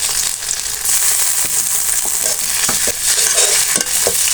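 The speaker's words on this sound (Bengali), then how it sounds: "এটা আমি ভালো কিছু কষিয়ে নিব যাতে কাঁচা গন্ধটা চলে যায়" Ginger-garlic paste and cumin paste fry and get stirred in hot oil for a chicken roll filling, a loud close sizzle broken by repeated spatula scrapes and clinks against the pan.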